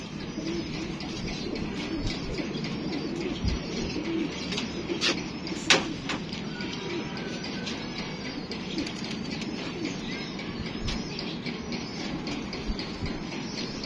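Large pigeons coo from a loft or coop, soft low murmuring calls beneath a steady background hum, with occasional rustling and a few sharp clicks.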